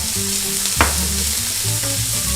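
Vegetables and red pepper fry in oil in a single pot, giving a steady close sizzle with one sharp stirring clack partway through.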